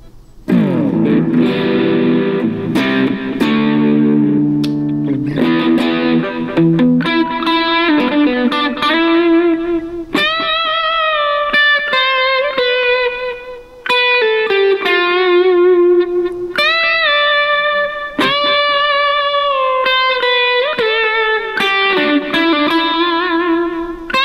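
Distorted electric guitar lead tone through a Positive Grid Spark Mini amp plays sustained bent notes and melodic runs, loud and up close, with no talking.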